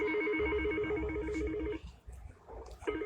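A telephone rings with a steady electronic warble in repeated bursts, loud and close, then stops as muffled room noise follows; the ring briefly returns at the end.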